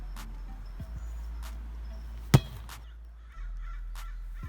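Crows caw outdoors in a few short, separated calls, one louder and nearer burst standing out over a steady low background hum.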